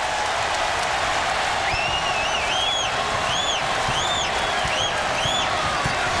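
A basketball arena crowd in San Diego at a college game, on their feet cheering and applauding in a dense, steady roar, with shrill whistles rising above it from time to time.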